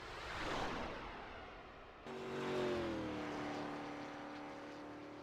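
Race car engine in a Talladega superspeedway racing video game, with a muffled rumble giving way to a rising, steady tonal whine as the car accelerates out onto the track, moderately loud and alone.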